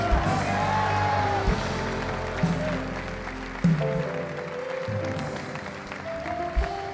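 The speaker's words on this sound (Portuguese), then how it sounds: "dá uma salva de palmas ao Senhor" Applause from the audience at a church conference, a sustained spread of clapping with occasional whoops and shouts from the crowd, under music and some background voices.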